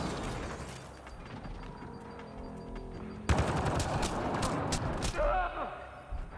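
Gunfire in the video game Mass Effect Andromeda: sharp, rapid bursts of shots and mechanical clatter grow louder in the second half, over a busy in-game background with some voice.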